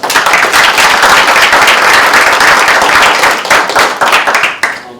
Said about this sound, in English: If y'all can make some noise for him.